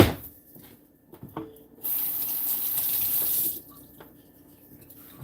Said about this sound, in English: Rinse it out, of course.